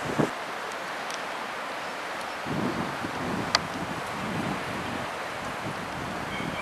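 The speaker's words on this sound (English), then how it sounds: "Although it's a little bit too windy for me" Steady broadband wind noise on a breezy spring day outdoors, buffeting the microphone with low gusts and a continuous rustling hiss, moderately loud throughout with a few brief clicks.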